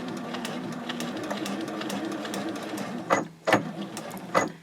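Home sewing machine stitching across a fold-flat fabric project bag on the 1-inch line, a steady close mechanical whir, followed by a few short separate bursts as the stitching pivots and backstitches.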